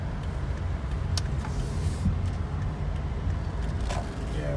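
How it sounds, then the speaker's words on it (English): Toyota Prius with a failing hybrid battery accelerating sluggishly from about 14 mph, a steady low road and engine drone heard from inside the cabin, with a few faint clicks and rattles over it. "Acceleration is so sluggish."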